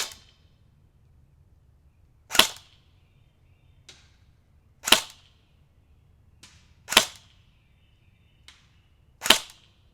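JG full metal AK AMD-65 airsoft rifle firing single shots outdoors, four sharp snapping cracks spaced a couple of seconds apart with faint clicks between them, nothing else heard.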